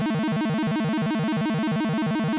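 A buzzy square-wave synth tone from Phase Plant, its pitch stepped up and down rapidly by an LFO in a fast, even arpeggio pattern, loud and continuous without a pause until it stops abruptly.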